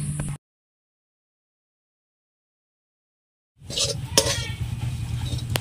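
A metal kadai is set onto a stove to cook a palm-flavoured pithe filling: after a long silence, a close burst of clinks and metallic rattling, followed by continuous clattering against the burner.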